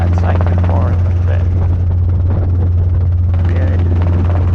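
Robinson R22 helicopter taxiing, with a loud, constant close rotor and engine drone running throughout while a voice talks over it.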